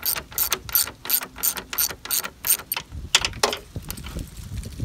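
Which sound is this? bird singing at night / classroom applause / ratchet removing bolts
ratchet removing bolts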